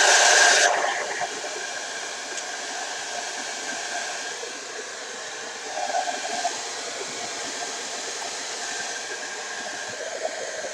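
Hair dryer blowing warm air over a freshly painted Merkava Mk III tank scale model, a steady even hiss held throughout at moderate level, briefly louder at the start with slight shifts as the airflow moves.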